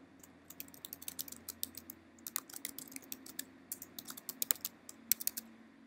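Someone types a message on a computer keyboard, a quick close run of light key clicks in uneven bursts with brief pauses over a quiet background.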